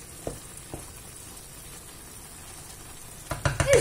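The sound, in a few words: stirring pot of milk cooking for chicken pasta gratin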